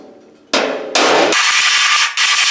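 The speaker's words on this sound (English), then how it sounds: "You gotta hit it hard enough to move the metal." Loud, sharp hammer blows ring against sheet metal on a Super M tractor nose, a few hard strikes in quick succession, close and echoing with a bright clang.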